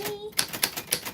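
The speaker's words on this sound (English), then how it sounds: "But that just comes with a lot of typewriter typing," Typewriter keys strike in a quick, uneven run of four or five sharp clacks, after a brief faint tone at the start, close and fairly quiet, with no voice over them.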